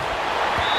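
Stadium crowd noise in Madden 19 during a Colts–Saints game, a dense, steady roar of cheering that builds ahead of a big third down, with no gaps in the wash of sound.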